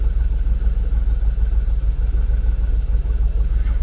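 A Jaguar XKR (X100) engine idling steadily, a low, even rumble with a regular pulsing throb, close and continuous with no voices.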